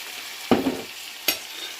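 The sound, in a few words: stock added to frying meat pie filling, sizzling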